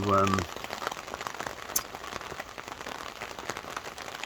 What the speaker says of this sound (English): now the rain's coming down heavy